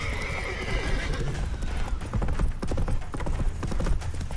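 Roach, Geralt's horse in Witcher 3, gallops with steady, close clip-clop hoofbeats and lets out a neigh early on, loud and continuous under game sound.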